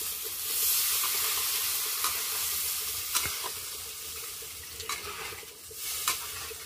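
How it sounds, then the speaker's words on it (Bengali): Steady sizzle of potatoes and spices frying in a pan as water goes in, with a few sharp clinks and scrapes of stirring scattered over the hiss; no voices. "এখন আমি জল দিয়ে দিচ্ছি।"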